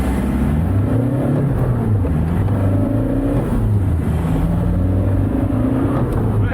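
Car engine revving hard during a wheelspin, close and loud, its pitch rising and falling in steady surges with faint talk in the background.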